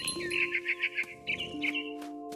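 A mama bird calling in the video game What Remains of Edith Finch: a run of bright, rapid chirping notes in a short burst, then a second brief call over a steady background tone.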